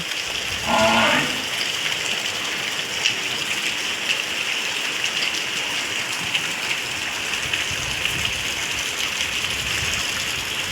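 Steady wind-driven rain hisses without pause over farm fields, with a cow mooing briefly near the start.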